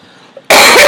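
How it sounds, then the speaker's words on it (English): A single person coughs sharply and loudly right at the microphone, a sudden harsh burst after a moment of quiet. "sorry, I have a cough."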